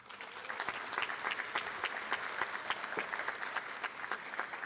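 A school awards ceremony audience applauds students who received certificates of merit and key awards, a steady, fairly distant wash of clapping that keeps going throughout with no voices standing out.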